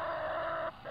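Hens in a backyard chicken coop in summer heat in Austin, Texas give a drawn-out, steady vocal call, fairly faint and alone, breaking off near the end with a brief pause.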